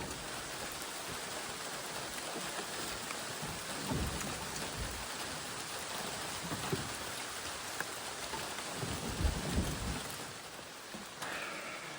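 Steady rain pours down outdoors around an old vehicle that has stood unused for 50 years, a dense continuous hiss with heavier bursts of drumming on surfaces, loud and unbroken for the whole stretch with no voices.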